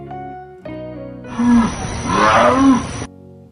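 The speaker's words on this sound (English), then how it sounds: "Jaguar." A jaguar roars in a rough, rasping, sustained growl, loud and near, building in two surges before cutting off.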